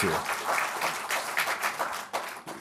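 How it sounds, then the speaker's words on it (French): Scattered audience applause at a business roundtable event, uneven bursts of clapping that swell and dip, with a voice speaking over parts of it. "ces applaudissements vont à ceux qui ont contribué"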